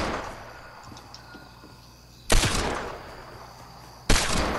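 Gunfire in the video game Fortnite: two sharp, loud shots about two seconds apart, each with a short noisy tail, over a quiet background.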